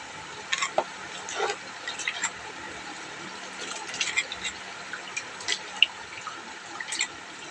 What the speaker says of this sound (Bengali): চালটা একটুখানি ধুয়ে নেবো, ধুয়ে ভাতটা বসিয়ে দেবো।